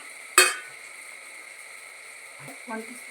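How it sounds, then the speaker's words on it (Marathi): Tomatoes frying in a pan for a pressure-cooker chicken biryani give a constant soft sizzle, with a sharp clink of a utensil near the start and brief stirring or speech sounds toward the end. "छान टोमॅटो पण फ्राय होत आहे"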